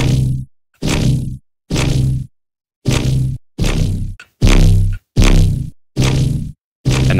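A super saw synth chord resynthesized through the FFTexture spectral plugin, heard as eight loud, bright, buzzy stabs in a steady rhythm with short silences between them.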